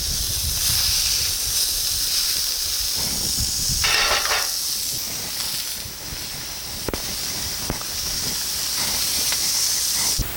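Burger patties smashed down on a hot griddle sizzle and sear with a steady, loud hiss, a few sharper crackles and scraping sounds breaking through the constant frying noise.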